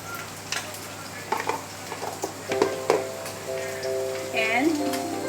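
Onion fries in a pan while a spoon stirs it and turmeric goes in, giving a steady close sizzle with scattered scraping and clinking strokes.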